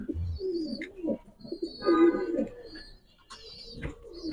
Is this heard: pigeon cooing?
yes